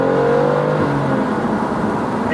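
BMW M2 CS engine pulling hard under acceleration, a loud sustained mid-pitched drone with rising and shifting tones heard from inside the car.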